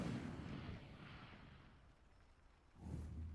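An Incendio fire spell in Hogwarts Legacy bursts with a broad whooshing blast that fades over a couple of seconds, then a second fiery burst flares up near the end.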